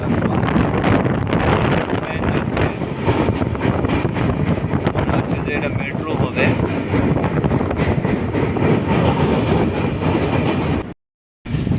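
A train on the Agartala to Delhi rail journey rolls steadily near New Delhi, with a constant loud rumble, rhythmic clatter of wheels and gusting wind against the microphone, cutting out briefly near the end.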